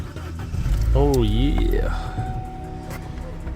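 A Vauxhall Corsa engine, just back from the garage after an intermittent non-start fault, revs up loudly and settles back to a steady idle, with someone speaking briefly over the rising whine.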